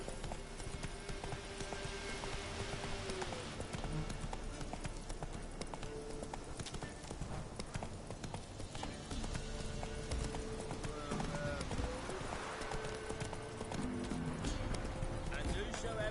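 Horse galloping in The Witcher video game, a continuous rhythmic clip-clop of hooves under background music, with someone talking over it and an occasional whinny.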